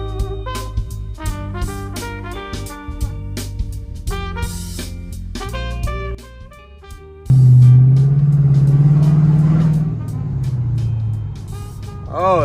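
Dodge 392 car driving, with engine rumble and road noise that rise into a strong steady drone in the second half, under loud music and someone talking.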